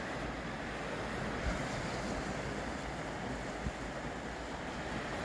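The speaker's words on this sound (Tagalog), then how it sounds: "Lakas ang daloy ng ilog." Strong river current rushes steadily by on a walk in Säffle, Sweden, a broad continuous wash of water with wind noise and no voices.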